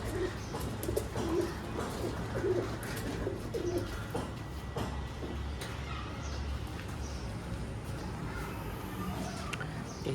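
Soft pigeon coos repeat in short, low murmurs from pigeons in a cage over a steady background hum, fairly close and unhurried, with no talking.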